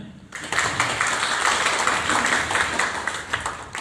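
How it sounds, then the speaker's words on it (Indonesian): Applause from an audience at a marriage guidance class, a dense crowd clapping that starts abruptly and holds steady and fairly loud throughout. "Boleh tepuk tangannya."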